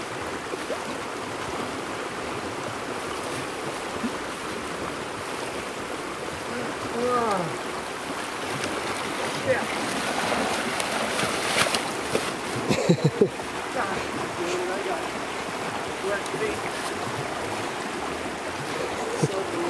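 The Paria River, a shallow desert stream in Arizona canyon country, rushes steadily nearby as someone fords it on foot, the continuous gurgling punctuated by occasional splashes.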